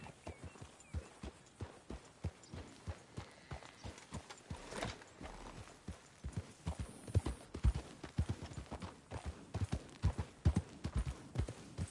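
Horse hooves clip-clop steadily in Red Dead Redemption, a rhythmic run of light, distinct hoofbeats that keeps an even pace and grows slightly louder and busier toward the end.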